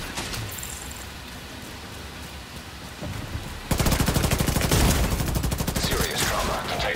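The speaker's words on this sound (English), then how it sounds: "Serious trauma detected. Rogue artillery turret detected." A rogue artillery turret in The Division 2 opens up with rapid, loud bursts of heavy gunfire that begin abruptly midway, after a stretch of rain-like background noise.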